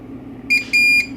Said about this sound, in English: So you'll hear it beep.